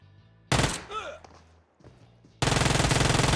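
Video game gunfire comes as two loud bursts of rapid automatic fire, one short burst near the start and a longer sustained burst at the end, with quieter game sounds in the gap between.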